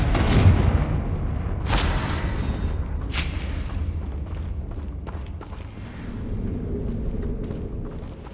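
Booming blasts of the Confringo blasting spell in the video game Hogwarts Legacy, several sharp bursts over a dense rumbling battle din that continues throughout, with no clear talking.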